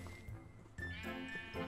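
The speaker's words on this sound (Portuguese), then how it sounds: "O tanto de ovelha que tem ali, ó." Sheep bleating in the video game Minecraft, with a few short bleats spaced through the clip, fairly close and clear, over a faint background.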